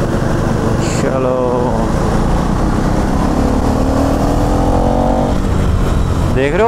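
A 2024 KTM Duke 390 engine revs up on a night ride, its whine climbing steadily in pitch as it accelerates, loud and close, over steady wind and road noise.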